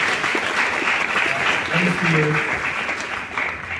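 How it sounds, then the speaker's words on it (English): Audience at a women in film awards show at the Kenya National Theatre applauding women elected as governors, steady clapping filling the hall while a speaker talks briefly over it. "Let's clap for those who are elected as governors"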